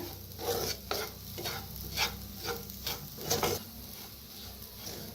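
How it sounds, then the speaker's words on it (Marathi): Kachori spice filling roasts in oil with a quiet, steady sizzle, stirred in about six rhythmic scraping strokes of a spoon against the pan. "1 मिनिटभर असंच तेलात असं भाजून घेतलंय बघा"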